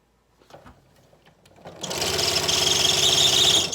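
A sewing machine in need of oiling starts up after a few quiet clicks and fumbling, then runs fast and steady with a loud rattling, whirring hum while stitching fabric.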